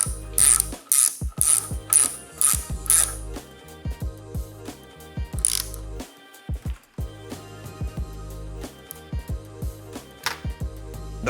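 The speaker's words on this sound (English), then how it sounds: "And then we'll thread this right into that hole that we just tapped." Ratchet clicking as a bolt with red Loctite is threaded into a freshly tapped hole on a 420cc Predator engine, close rapid bursts of pawl clicks in repeated strokes with short pauses between them, no talk.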